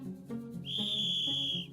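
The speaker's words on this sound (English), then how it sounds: "the sound of this whistle" A very high-pitched whistle blows a long, steady, clear tone lasting over a second, standing alone over faint low background sound.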